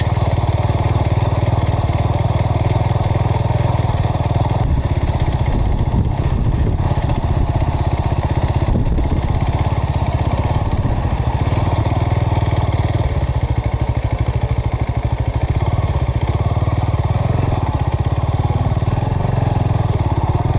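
A motorcycle engine runs loud and close, idling with a steady rough rumble and slight clattering that keeps up without a break.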